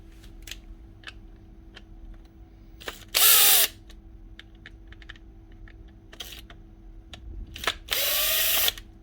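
A cordless drill or screwdriver backs out the base screws of a Trend T4EL router, two short loud whirring bursts separated by small clicks and taps of handling the tool.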